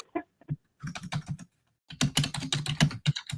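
Computer keyboard typing in the background of an online information session: quick irregular bursts of clicking keys, a few scattered taps and then a denser run of keystrokes, with no talk over them.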